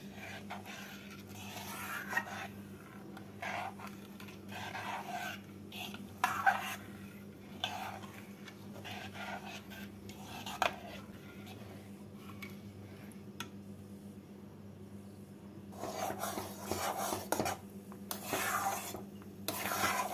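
Pitha dough, a sticky boiling mass with a little salt, stirred nonstop in a wok over a medium-low gas flame; soft scraping and rubbing strokes come in bursts at a fairly steady pace over a constant low hum, with no voices.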